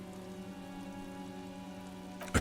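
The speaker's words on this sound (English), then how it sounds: "Rain falls onto the roof of a woodshed." Rain falls on a woodshed roof in the video game Disco Elysium, a soft, steady patter over a faint low hum, ending with a brief louder burst.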